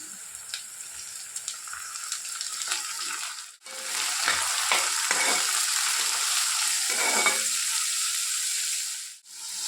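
Red lentils frying in a pan while being stirred for an Assamese banana flower dish, with a steady close sizzle, scraping stirs and two brief pauses.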